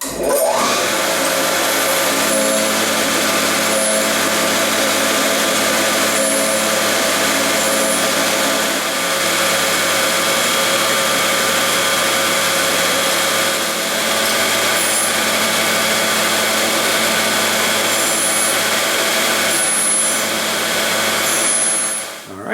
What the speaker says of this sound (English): I'm going to grind the sides of the vise